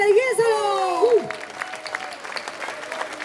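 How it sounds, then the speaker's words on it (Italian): A crowd claps at an outdoor concert in Piazza Manzoni in Jesolo, a seaside town. A presenter's voice rises over the start, then scattered, fairly faint applause continues after the voice drops out. "vorrei veramente un grande applauso per Jesolo!"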